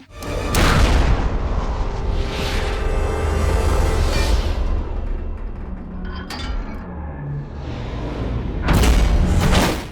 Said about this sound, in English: After some more fighting, Deadshot fires again